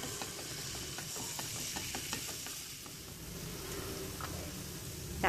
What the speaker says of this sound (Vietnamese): phi tỏi.